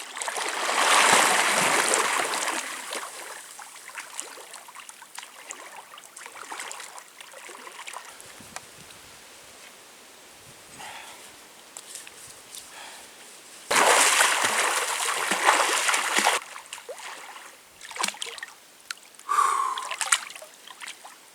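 Someone splashes and bathes in a cool woodland stream, loud close bursts of churning water between quieter trickling stretches, with occasional breaths and gasps.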